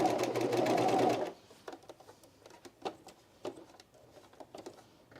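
A sewing machine stitches the side seams of a camisole with a bra shelf. A loud, steady run of stitching lasts about a second, then stops and gives way to quieter clicks and handling noises.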